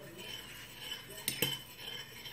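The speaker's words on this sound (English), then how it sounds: "I just keep stirring." A spoon stirs an alkaline indicator solution in a kitchen container, giving a faint steady swish with two brief clinks of metal against the vessel midway.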